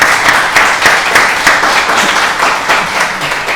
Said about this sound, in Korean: 우리 따뜻한 박수로